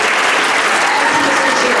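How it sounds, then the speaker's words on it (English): Loud, close applause from a school dance show audience, a dense continuous wash of clapping filling the whole short stretch. "So please give a huge round of applause to Ms. Anderson"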